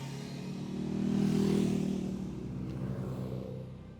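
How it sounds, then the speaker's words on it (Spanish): Motorcycle approaching on a road, a faint engine hum swelling to a peak then easing as it passes, distant and alone. "a ver qué moto viene por aquí"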